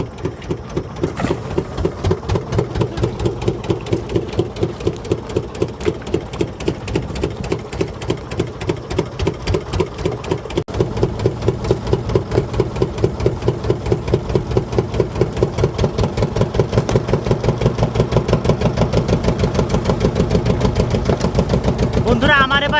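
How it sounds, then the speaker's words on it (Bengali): A fishing boat's engine runs steadily out on the Sundarbans waterways, a loud, rapid mechanical chugging that holds an even rhythm throughout with no break. "আমরা আমাদের বোট চালিয়ে অনেক দূর চলে এসেছি"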